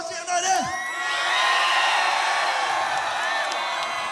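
Audience at a rap battle cheering, whooping and yelling in a loud sustained roar that builds after a short shout and holds steady, with a voice calling out over it.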